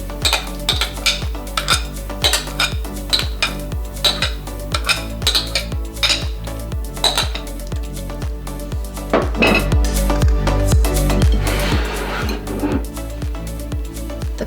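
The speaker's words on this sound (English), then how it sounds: "when my cream cheese is smooth, I'm going to mix in my pumpkin" A spoon clinks and scrapes rhythmically against a bowl as pumpkin is mixed into smooth cream cheese for a no-bake pumpkin cheesecake; the steady strokes grow busier and denser near the end.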